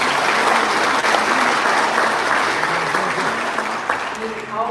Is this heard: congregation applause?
yes